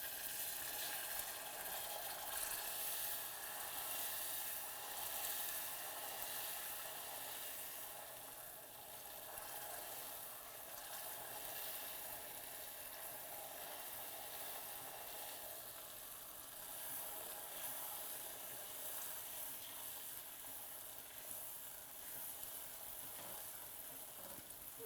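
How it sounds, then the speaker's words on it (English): Cold butter spits and sizzles in hot caramelized sugar in a pan, a soft, steady crackling hiss that continues evenly at low volume throughout. "it is going to sputter and spit at you a little bit, which is a little bit frightening at first. But it's just because we're adding the cold butter to the hot pan"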